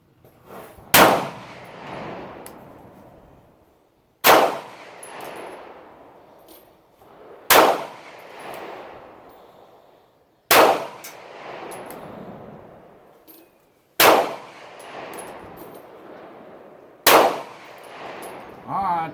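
Six loud, sharp shots from a Taurus PT111 G3 9mm pistol, spaced about three seconds apart, each with a ringing metallic clang and a short echoing decay outdoors.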